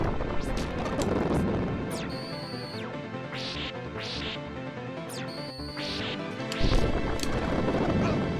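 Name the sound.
video game sound of Dracula summoning fires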